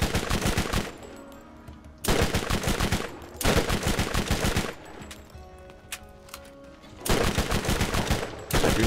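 Gunfire in the video game Borderlands, loud rapid automatic bursts of roughly a second each, four volleys separated by quieter pauses with faint background game sounds.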